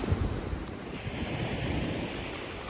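Steady broadband wash of Black Sea surf rolling onto a beach at Sochi in December rain, with a constant hiss of rain and wind over it, moderately loud and unbroken.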